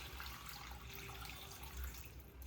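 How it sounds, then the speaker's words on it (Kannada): Water runs and splashes steadily into a cooker, a continuous close pouring rush with no voices. "ನೀರು ಹಾಕೋಣ"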